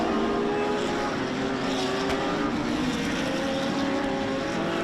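A loud, steady roar of several race cars at a race start at Road Atlanta, droning continuously without letup.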